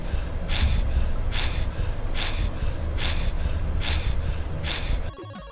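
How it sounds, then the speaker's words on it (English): Wolverine breathing heavily while healing in an X-Men video game, about six loud, rhythmic panting breaths evenly spaced under a steady background hum, ending abruptly. "listen to Logan's weirdly sexual heavy breathing"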